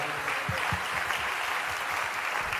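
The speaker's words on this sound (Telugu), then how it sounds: "చప్పట్లు కొట్టి ప్రభు నామమున మహిమపడదాం." A church congregation claps together during a pastor's message, the dense applause ringing loud and sustained with some rhythmic, unison hand strikes standing out in the mix.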